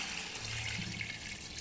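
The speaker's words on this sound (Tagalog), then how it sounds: "So guys, maglalagay ako ng tubig," Water rushes steadily into a cooking pot, about a liter poured in one continuous splashing stream, fairly quiet and close with no voices over it.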